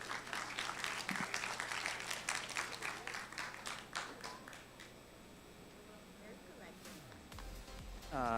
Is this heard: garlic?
no